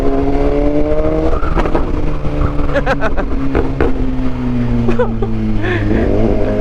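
A BMW S1000XR motorcycle, loud and close, downshifting with rising and falling engine revs and sharp throttle blips across the clip.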